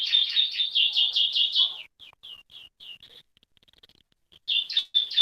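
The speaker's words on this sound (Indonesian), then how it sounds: "Malah ada suara burung loh." Pet birds chirping nearby, a rapid run of shrill repeated tweets, then a quieter stretch of short scattered chirps before another loud burst at the end.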